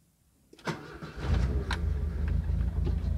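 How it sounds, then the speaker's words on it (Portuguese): A car engine starts up after a moment of quiet, with a cranking whine and then a catch into a steady, rumbling idle, recorded up close during a power window repair. "Vou ligar o carro agora para ver."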